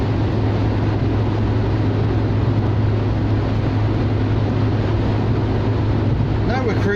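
A Talbot Horizon Ultra, formerly sold as a Chrysler, cruises at a steady 60 mph. A constant low engine drone with road and wind roar runs unbroken throughout, heard from inside the cabin.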